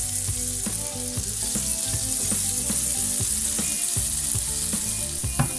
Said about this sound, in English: I'm going to add the butter in. It'll also stop the spices from burning.